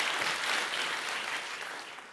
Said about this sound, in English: let's give them another round of applause for that great work